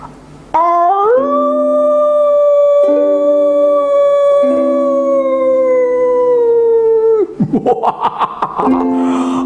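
A long, drawn-out wolf howl rises and holds steady for several seconds, followed by a burst of yipping, choppy vocal sounds near the end.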